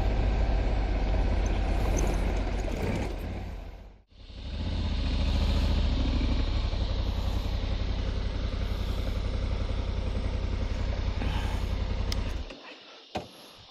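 A Honda Africa Twin Adventure Sports DCT motorcycle out on dirt trails, its engine running steadily and loud, with a brief dip midway before it pulls back up, then cutting out near the end.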